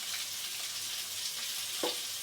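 Potatoes and onions fry in hot oil, giving a steady close sizzle with a soft hiss, one brief stirring scrape near the end and no talk.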